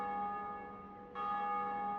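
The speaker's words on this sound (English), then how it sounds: "Sir Saunders successfully rang the first bell, its echoing chimes reverberating throughout our games." A bell rings in Dark Souls, a sustained tonal chime with a second strike halfway through that swells and lingers with echoing resonance, fairly faint and with no talking.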